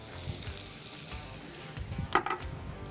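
Onion and celery sizzling in leftover bacon grease while making stuffing, a steady close fry with a brief clatter of stirring near the end.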